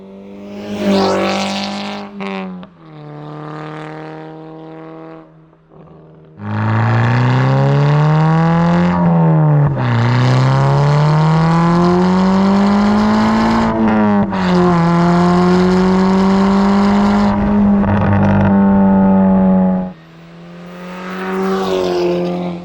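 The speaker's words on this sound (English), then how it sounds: "Paired with the Rev 9 exhaust, it sounds better than I could have ever imagined. Just listen." A car engine revving hard through a loud aftermarket downpipe and Rev 9 exhaust, several long rising and falling revs with a deep droning tone, close and powerful.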